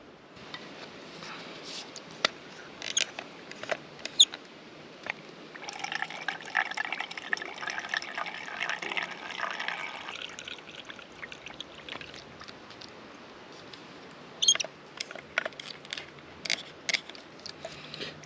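Water pouring steadily into a cooking pot at a woodland camp, a close, soft rushing fill lasting several seconds amid scattered drips, clinks and handling noises.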